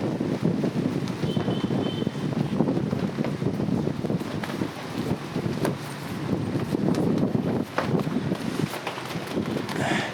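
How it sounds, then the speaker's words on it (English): Strong gusty wind buffets the microphone steadily, with a low rumbling roar throughout. "It is windy now"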